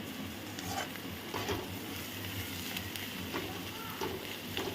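Carrots and rice stir-fried Chinese-style on a high gas flame produce a constant close sizzle with occasional soft scraping and stirring sounds.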